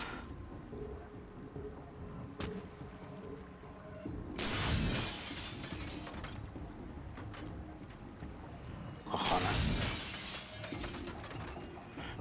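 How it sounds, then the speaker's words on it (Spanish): Two loud glass-window smashes ring out several seconds apart in the video game Singularity, each a sharp crash with a tinkling tail over quiet game ambience. "Yo rompo todos los cristales"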